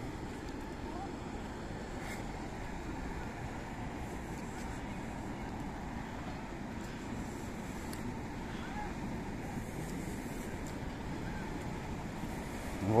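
River water rushing at a lock gate on the Escaut at Kain, Tournai, a steady broadband roar that stays constant and fairly loud throughout, with wind buffeting the microphone.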